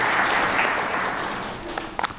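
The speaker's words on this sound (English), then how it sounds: "I think we need to clap for Ellen again." Audience applause at a library research week event on AI, a dense wash of clapping that gradually fades, with a few sharper claps and brief noises near the end.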